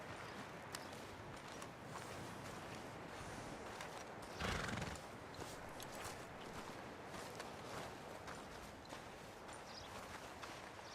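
Horses in the Red Dead Redemption 2 video game whinny and snort while their hooves clip-clop on the ground, over a steady outdoor ambience. One louder neigh stands out midway, and no one speaks.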